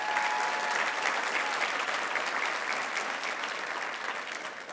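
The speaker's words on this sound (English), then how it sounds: "Let's give them all a round of applause." Conference audience applauding at the White House Conference on Hunger, Nutrition and Health, a steady, dense roar of clapping from a large hall that holds evenly throughout and eases slightly at the end.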